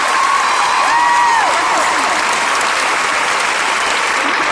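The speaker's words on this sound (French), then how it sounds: "on peut l'applaudir très très fort" An audience at a Danse avec les stars 2016 touring dance show applauds loudly and close-up, with dense, continuous clapping and a few whistles and cheers rising above it.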